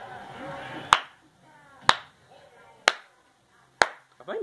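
Four sharp hand claps ring out about a second apart, crisp and close, each leaving a short echo in a quiet room.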